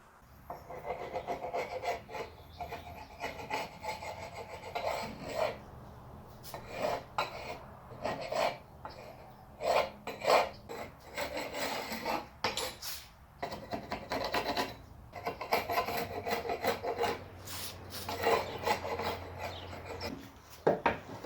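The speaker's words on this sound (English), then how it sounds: "Okay, so I've got the bulk of the sanding done." Wood being sanded by hand while building a workout bench: steady, continuous rasping strokes, close and fairly loud, with irregular pauses and no talking.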